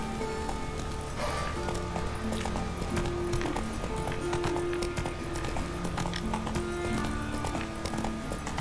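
Horse hooves galloping in The Witcher 3: Wild Hunt, with a quick, even clip-clop beat heard up close under game music.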